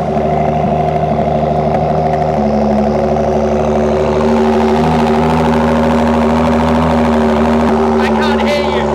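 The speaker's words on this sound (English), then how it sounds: "It has a Quicksilver exhaust. You want to start it?" A car engine with an aftermarket Quicksilver exhaust starts, then idles and rumbles steadily with a deep throaty tone, running continuously close by, with a short higher clatter near the end.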